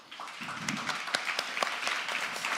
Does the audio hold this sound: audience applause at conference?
yes